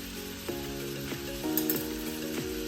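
Chicken fried rice with garlic and onions stir-frying in a pan, a steady close sizzle with a few soft scrapes and clinks of the spatula as it gets stirred.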